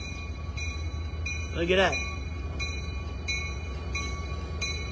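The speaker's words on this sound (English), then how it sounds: "Here's the train coming. Here it is." A train pulls in at the B&O Railroad Museum, a steady rumble of rolling cars and wheels under repeated short clatters, with a brief rising squeal or horn-like tone near the start; a person speaks briefly over it.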